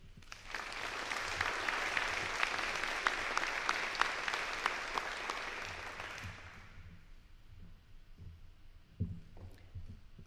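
Audience applause for a nursing graduate at a May 2023 pinning ceremony on the Worthington campus: dense clapping from a crowd for about six seconds, then fading out to a quiet room with a few scattered thumps.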